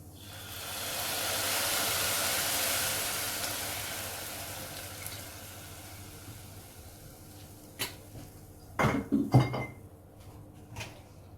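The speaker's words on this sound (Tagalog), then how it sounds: "I will now be putting 1/4 cup of soy sauce" A quarter cup of soy sauce poured into a hot cooking pan for adobong sitaw with bacon bits: a broad, rushing hiss that swells and fades, followed by several sharp metallic knocks of utensils against the pan.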